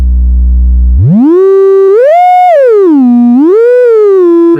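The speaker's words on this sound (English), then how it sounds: "Now that we've heard the little sine wave" A loud, pure sine-wave tone from a Moog Matriarch synthesizer, its LFO cranked to audio rate, starts as a low hum, then rises and glides up and down in pitch in smooth swoops, sustained without pause.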